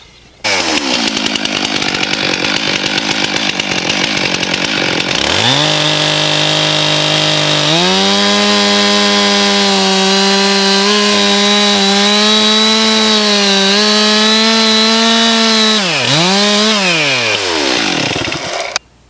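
A chainsaw roars close and loud, revving up then bogging down into a steady cut through a heavy oak sleeper before easing off at the end.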